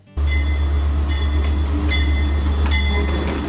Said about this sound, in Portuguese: O trem, agora, que é um dos transportes mais usados na França, é un train.